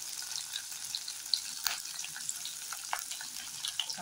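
A quiet, steady crackling sizzle of cumin and coriander frying in hot oil for a tadka, faint and continuous with a few small pops.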